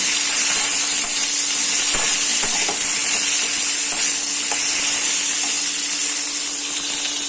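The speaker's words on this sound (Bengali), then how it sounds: "এটাকে ভালো করে এবার ভেজে নেব" Potato, carrot, papaya and bean pieces frying with cumin in a pan give a steady, close sizzle and hiss, with faint scrapes of stirring scattered through and nobody talking.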